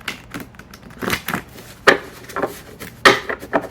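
A deck of cards being shuffled by hand, giving irregular soft slaps, taps and brief riffles close by, with no talking.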